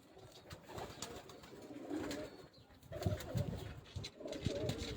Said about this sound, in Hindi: ये मेरे गोल्डन कबूतर है